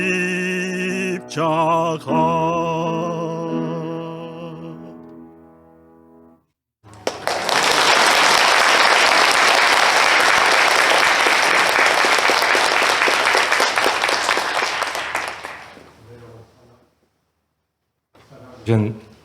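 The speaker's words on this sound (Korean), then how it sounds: "우리 두 분께 뜨거운 박수 한번 다시 보내주십니다." A church congregation bursts into loud, sustained applause lasting several seconds after sung organ-accompanied music fades, then dies away into quiet.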